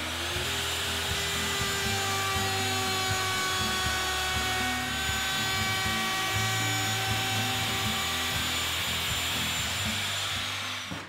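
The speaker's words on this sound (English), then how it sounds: "I'll clean up this lip with a flush cut bit in the router" A router fitted with a flush cut bit trims the edge of a wood cabinet face frame, giving a loud, continuous high-pitched whine with a steady tone and cutting noise, and no talking.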